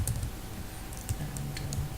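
Keys on a computer keyboard clatter in quick, light taps over about two seconds, close and steady, with a few sharper clicks standing out.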